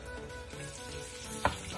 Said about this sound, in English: We're going to fry the garlic.